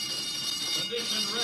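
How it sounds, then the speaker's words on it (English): A continuous electronic alarm sounds aboard a spaceship in an old radio drama, a steady, bright, buzzing tone filling the space without a break. "Who turned in that alarm?"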